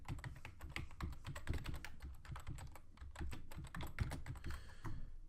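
Quick, uneven clatter of keys on a computer keyboard as an email address is typed into an account sign-up form, close and steady throughout with no talking.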